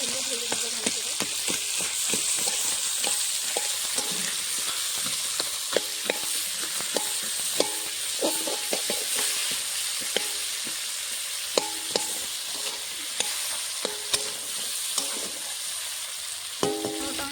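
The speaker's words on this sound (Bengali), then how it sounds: "মাছের মুড়োটা ভাজা হয়ে গেছে" Rohu fish head frying in hot oil gives a steady, close hiss with scattered sharp crackles and pops, and the spatula scrapes now and then across the full stretch, with no voices.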